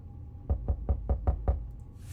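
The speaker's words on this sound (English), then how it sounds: "Knocking again." Six evenly spaced knocks on a shelter door in the video game 60 Seconds! Reatomized, firm and close, landing in a steady rhythm with no voices.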